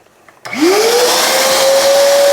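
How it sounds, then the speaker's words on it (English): A vacuum cleaner switches on abruptly and runs loudly and steadily over a mat, its motor whine rising in pitch before settling into a constant drone. "To start off, we're gonna hit this with the vacuum"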